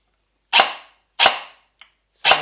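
An airsoft gun fitted with an LDT-X split gearbox fires sharp, close, loud single shots on semi-auto, three distinct cracks spaced under a second apart, each with a brief decaying tail, plus a faint small click between.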